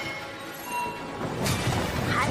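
A sudden shattering burst breaks out midway and spreads into a crackling crash that lingers to the end, a dramatic sound effect in an animated fantasy story.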